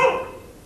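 A small female dog gives a single short, sharp bark that fades quickly, heard up close and with no one speaking.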